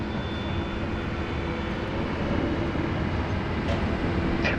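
A Qantas airliner lines up on runway 34 left at Sydney Airport, its jet engines giving a steady, broad rumble heard from a distance, continuous and even throughout.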